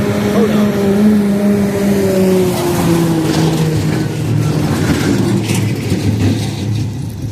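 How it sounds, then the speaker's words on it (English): Road traffic passes by outdoors, a continuous loud roar of vehicles with engine tones sliding downward as they go past, heard up close and filling the whole stretch. "There's a bunch of traffic out here"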